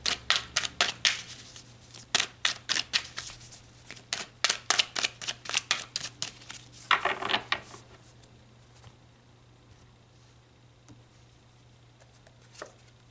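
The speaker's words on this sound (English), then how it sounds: "So let's pull some more cards." Tarot cards are pulled from a deck in a quick run of crisp flicks and snaps for about eight seconds, then near silence with one faint late tap.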